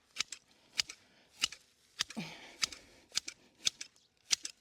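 Hand shears snip boxwood in a garden in July, making sharp, crisp clicks at a steady, fairly even pace. Near and fairly quiet, with a brief rustle of clipped foliage partway through.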